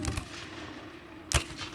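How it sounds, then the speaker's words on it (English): Muskets and rifles fire during a Civil War reenactment battle, with a few sharp cracks echoing across an open field and the distant rumble of the fight continuing underneath. "with all of the gunfire going off, it might be difficult to hear some of the orders that are being shouted out"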